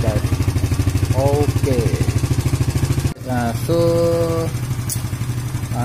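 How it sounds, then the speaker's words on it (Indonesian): An EVO Z motorcycle engine idles to warm up, with a steady, even putter close by. Someone speaks briefly over it, and a short knock interrupts midway. "Sambil saya panaskan enjin motor"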